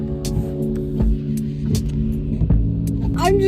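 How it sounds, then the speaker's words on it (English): Inside a moving car, a low engine hum and road rumble run steadily, with repeated thumps and bumps and a rising tonal squeak near the end. "We're in the car now."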